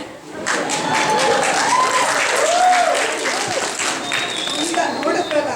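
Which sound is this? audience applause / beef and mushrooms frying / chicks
audience applause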